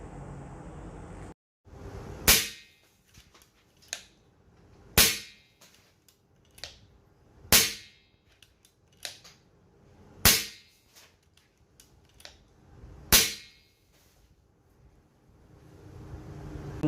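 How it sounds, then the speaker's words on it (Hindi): Five sharp, loud shots from an M16A air gun crack at regular intervals of a few seconds, each followed by a short decay and faint clicks in between. "आवाज़ जो सी है इस गन की थोड़ी लाउड है, मैं आपको वो चेक करा देता हूँ।"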